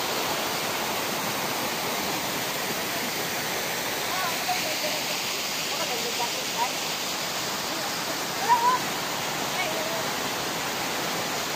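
Stream water from the jungle flows into a swimming pool as a constant, even rushing wash, loud and close, with only tiny clicks breaking the steady noise.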